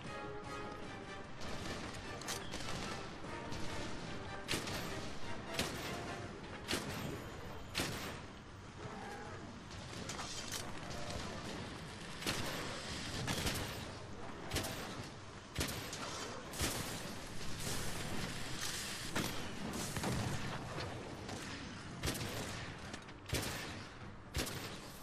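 Sticky rounds fired from a bowgun while fighting a monster in Monster Hunter: World: a dense, steady run of sharp, loud impacts and blasts over roughly twenty-five seconds, layered with game music and battle noise.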